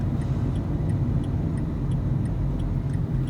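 A car's turn signal ticks in an even, quick rhythm inside the cabin during a driving lesson, the clicks crisp over the steady low hum of the engine, with no one speaking.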